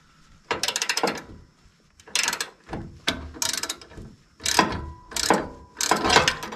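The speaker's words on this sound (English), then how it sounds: "use the ratchet here for a minute on this." A ratchet working a bolt on a 2004 Ford F150 Rough Country 6 inch lift kit install, close and clear, with about six quick bursts of rapid clicking separated by short pauses.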